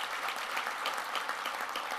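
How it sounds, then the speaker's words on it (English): A crowd at the 2013 Broyles Award event applauds steadily, a dense even wash of many hands clapping with no break for the full two seconds. "Let's give John a round of applause."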